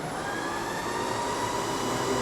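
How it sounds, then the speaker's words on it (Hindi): Steady whooshing wind and road rush with a faint high electric whine while riding a CFMOTO Zeeho AE8S+ electric scooter in sport mode, continuous and even throughout with no voices. "बाइक रेडी हो गई है हमारी, ये अभी हम चल रहे हैं स्पोर्ट्स मोड पे"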